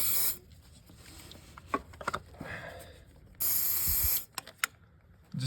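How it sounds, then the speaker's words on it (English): Two bursts of loud aerosol spray hiss as Seafoam cleaner is sprayed into a Toyota throttle body, each lasting under a second, separated by quiet clicks and faint handling noises close by. "So we're gonna give that a nice little spray."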